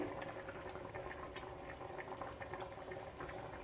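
Nellore-style fish curry (chepala pulusu) boiling on a high flame under a lid, a faint, steady bubbling simmer with soft patter, no voices.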